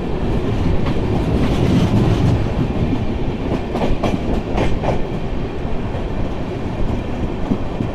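An Amrit Bharat Express passes on the adjacent track during a crossing in India, a loud continuous rumble of rail wagons with rhythmic clickety-clack wheel beats filling the whole stretch, no voices.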